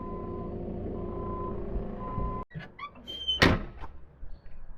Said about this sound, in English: And another lorry's just turned up.